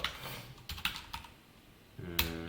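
JavaScript code being typed on a computer keyboard, a few soft separate clusters of key clicks with short pauses between them, close and fairly quiet, no speech.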